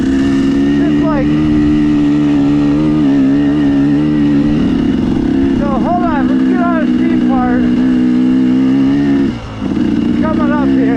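A motorcycle fitted with an RK Tek piston, RK Tek head, new crank and Scalvini exhaust pipe runs loud and close with a steady droning engine note, revving and shifting pitch throughout while someone talks over it.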